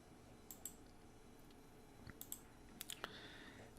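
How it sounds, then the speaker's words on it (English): A computer mouse clicks in quick pairs while someone works in a spreadsheet. Several crisp, close, faint double clicks sound over quiet room tone, with no talking. "And then I can just double click and let it go down."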